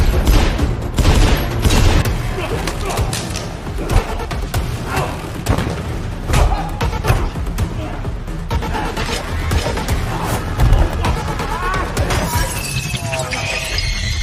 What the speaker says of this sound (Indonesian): Namun anak buah George melakukan perlawanan dan menembaki Damien.